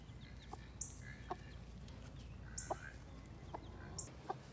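Soft, scattered clucks from a hen, several short calls spread out at moderate distance, with faint high chick peeps.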